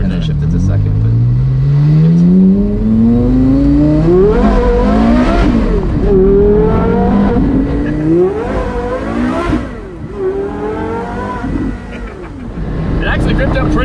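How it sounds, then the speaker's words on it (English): A car pulls away hard in first gear, the engine climbing steadily in pitch, then several quick shifts and revving surges. It is loud and close, with people talking over it. "go ahead and give it some gas in first"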